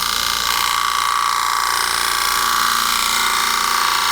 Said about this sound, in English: come in here and start a real light cut